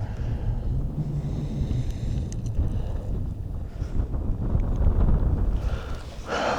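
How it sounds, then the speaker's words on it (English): Wind rushing up a canyon in Alaska roars and buffets the microphone in low, uneven gusts, swelling louder toward the end, with no speech. "There's a wind coming up this canyon"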